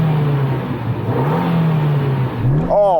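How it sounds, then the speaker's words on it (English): A small Suzuki Jimny off-roader's engine revs steadily up and down at close range, then climbs sharply in a rising rev near the end, loud and alone without talk. "So I'm going to rev up my little Jimny."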